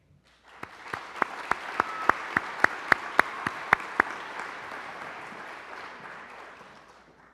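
Applause for award recipients at an awards celebration, a broad crowd clapping that swells in quickly, with a few sharp close claps standing out early on, then gradually tapering off.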